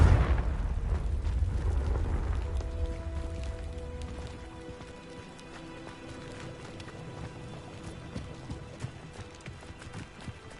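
A Confringo fire spell blast in a wizard video game: a loud, booming explosion at the start that decays into a crackling, rumbling tail with scattered debris-like clatter, no talking.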